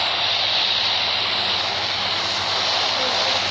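A steady, loud airplane engine drone from the aircraft in PUBG Mobile fills the whole stretch, a dense unbroken roar with no pause, and no voices come through over it.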